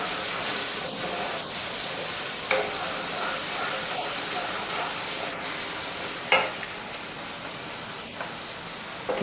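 Onions sautéing in a pan for a spiced potato and capsicum curry, with a steady close sizzle and occasional stirring scrapes, no talk.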